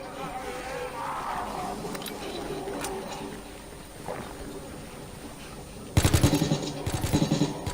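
Rapid automatic weapon fire from a zombie video game erupts partway through, loud bursts of repeated shots over a busy background of game noise and buzzing.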